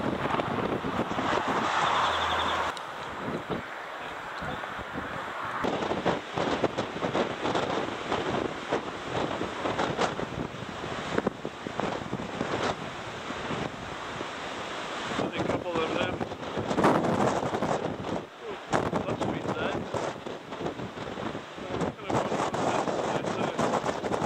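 Strong coastal wind buffets the microphone at the 12 Apostles lookout on Australia's Great Ocean Road, a loud continuous roar with surf-like rushing and gusts swelling and easing across the whole stretch.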